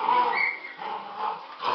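Nine-week-old Airedale Terrier puppies whimper and yip in high, drawn-out whines, close and fairly loud, with short pauses between cries.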